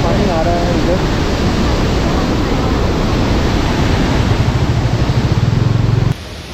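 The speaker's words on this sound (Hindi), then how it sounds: "ये देखो गाइस क्या वाटरफॉल है इधर" A waterfall near Dawki pours with a loud, steady rushing roar that fills the whole scene close by, its constant wash running almost unbroken before easing slightly at the end.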